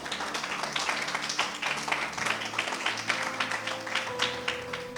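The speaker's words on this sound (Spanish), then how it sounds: "¿Puedes darle un aplauso al Señor?" Church congregation clapping for the Lord during a Spanish-language sermon, a steady wash of many hands applauding at moderate distance, with a sustained tone entering partway through.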